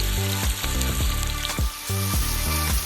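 Chopped onions and curry leaves saute in hot oil with a loud, close, continuous sizzle. Rhythmic scraping strokes of a stirring utensil repeat about twice a second, and no one speaks.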